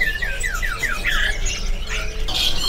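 A small red-tailed songbird at a market bird kiosk gives a run of sharp, repeated squawks and chirps close by, over a low background murmur.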